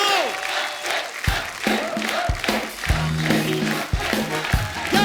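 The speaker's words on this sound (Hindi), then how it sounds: "जोरदार तालियां एक बार अक्षय बाजी के लिए" A studio audience on a TV comedy show claps and cheers to welcome a guest, with dense applause full of sharp hand claps and shouts, loud and close, while voices call out over it.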